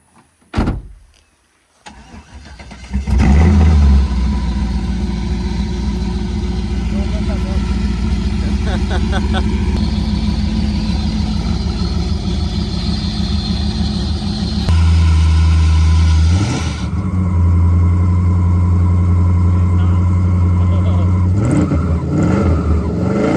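An LS-swapped Mustang engine roars loud and raw with no mufflers, revving and holding at high pitch, briefly dipping before climbing again; voices are faintly heard nearby.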